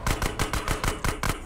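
Rapid bursts of gunfire from a shootout in GTA San Andreas on PS2, with repeated sharp cracks in quick uneven succession, loud and close, no talking over them.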